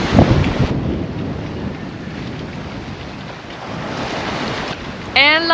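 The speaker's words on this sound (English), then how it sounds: "Wave." Ocean waves wash and wind buffets the microphone aboard a sailboat at sea during a solo ocean passage, a loud steady rushing with a brief creak near the end.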